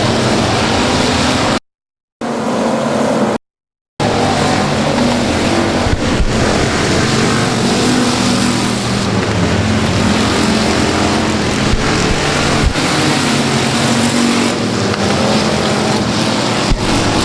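Race cars roar around Timberline Speedway, a loud, continuous din of several engines overlapping, with the sound briefly cutting out twice near the start.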